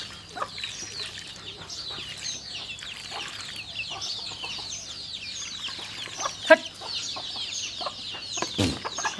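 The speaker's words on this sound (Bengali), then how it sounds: "মোটামুটি আপনার হাঁস মুরগি ছাগল সবগুলাই আছে" Chickens on a farm that also keeps ducks and goats cluck and chatter continuously, with scattered louder squawks and occasional wing flutters against a quiet outdoor background.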